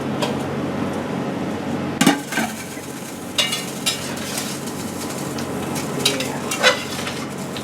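A spoon scrapes and stirs through potatoes cooking in a pot for a Southern-style pinto bean dinner, with a steady sizzle underneath and several sharp knocks and scrapes against the pot.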